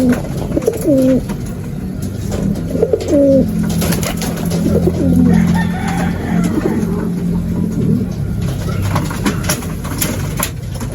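Pigeons coo in a loft, several soft rising and falling coos repeated in the first half, with faint engine noise in the background.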